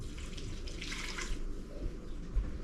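Water pours steadily into a bowl for a second or two, a soft splashing rush that fades, followed by quiet handling noises.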